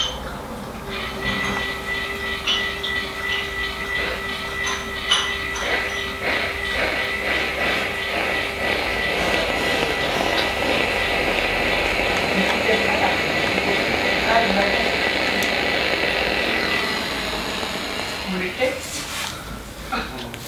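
A L'Oréal Steampod 2.0 steam hair straightener runs through a strand of damaged hair, giving a steady, fairly loud steam hiss over a low mechanical hum for about seventeen seconds before it cuts out.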